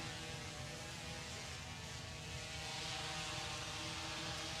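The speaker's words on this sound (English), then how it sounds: "the landing gear is now coming down and the drone is going to safely land" A 4K camera drone descends to land with its landing gear lowering, giving a steady, loud, close propeller drone and hum throughout with no voices.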